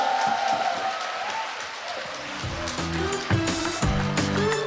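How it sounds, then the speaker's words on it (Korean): Audience at a company headquarters event applauds as a group leader finishes his speech: soft, rain-like patter that swells into fuller, louder clapping toward the end. "다시 한번 큰 박수로"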